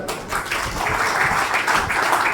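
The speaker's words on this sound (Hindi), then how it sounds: "आदरणीय टीसी छाबड़ा से एक बार सर के लिए जोरदार ताली।" Enthusiastic audience applause at a Hindi-language seminar or motivational event, a dense, steady wash of many hands clapping loudly and continuously, with no talk over it.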